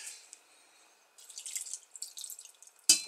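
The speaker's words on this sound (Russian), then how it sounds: "Добавляю воды" Water trickles and splashes as it is poured into minced fish for Sakhalin-style sausage, a soft close stream with small drips that swells in the middle and ends in a brief louder splash.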